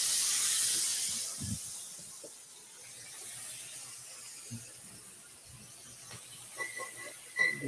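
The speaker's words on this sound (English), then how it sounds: "now that that's nicely drained, we are going to sear it" Carne asada steak searing in a hot pan gives a faint, steady hiss of sizzling throughout, broken by a few soft knocks and clinks of the pan.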